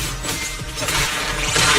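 A shattering combat effect in Zenless Zone Zero crashes loudly over busy game sound, with bright breaking bursts repeating through the moment.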